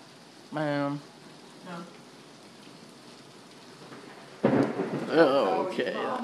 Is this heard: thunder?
yes